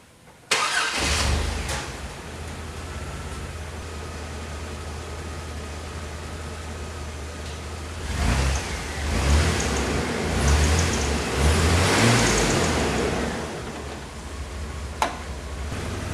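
A 25-year-old Chevrolet S10 pickup engine, radiator freshly filled with coolant, cranks and catches, then settles into a steady idle with a couple of brief revs partway through; no one speaks.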